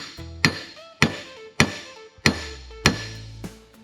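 Six sharp metallic hammer strikes on a bearing land at a steady, unhurried rhythm, each ringing briefly before the next blow, during a front differential rebuild on a 1954 Chevy 3100.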